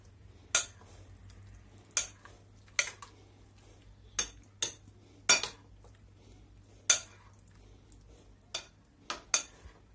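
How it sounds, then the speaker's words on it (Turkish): Sharp clinks of a spoon stirring roasted eggplant with olive oil, vinegar and salt, about a dozen separate scraping taps at irregular intervals over a quiet low hum, with no talk. "Ve bütün malzemelerimi güzelce karıştırıyorum."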